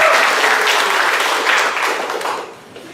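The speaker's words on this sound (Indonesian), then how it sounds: "Tepuk tangan untuk kita semua." Loud, close applause from a seated audience at the inauguration ceremony for the South Sumatra provincial board of the Indonesian wrestling association, a thick, sustained clatter that thins and fades out over the last second.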